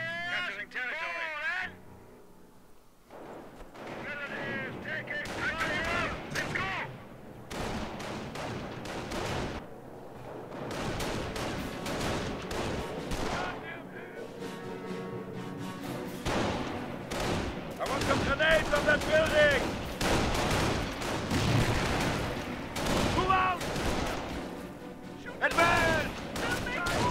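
Rapid gunfire and bursts of shooting from the WWII strategy game Company of Heroes (Far East mod), loud and dense throughout, mixed with game voice lines and unit chatter shouting orders.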